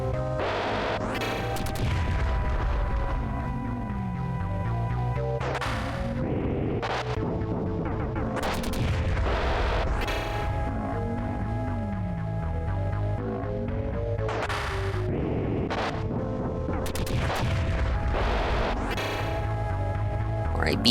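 Bomb explosions in Super Bomberman Collection, repeated crashing blasts that burst out every second or two over continuous chiptune game music and a low hum.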